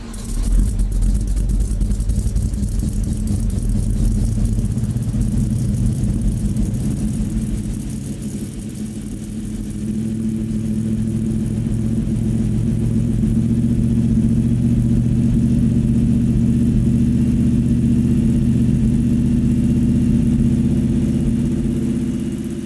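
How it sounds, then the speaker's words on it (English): 1978 Ford Bronco engine idling after a cold start, a loud low rumbling idle that stays close and steady for the whole stretch, dipping slightly midway before settling back, with no talking. "Let me give you guys a little cold start here."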